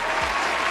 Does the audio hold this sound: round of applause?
yes